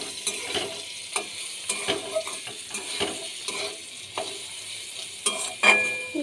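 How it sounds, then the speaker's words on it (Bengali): Vegetable curry sizzling in a pan, a steady frying hiss broken by sharp periodic scrapes and knocks of a spatula turning the vegetables, close and moderately loud. "একটু ভাজা ভাজা হয়ে এসেছে।"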